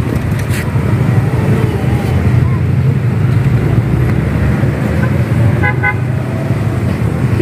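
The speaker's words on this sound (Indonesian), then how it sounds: "Oh, ada bis tuh, Dek. Ada bis." A bus rumbles past on a road amid steady traffic noise, giving a couple of short horn toots near the end over the continuous engine drone.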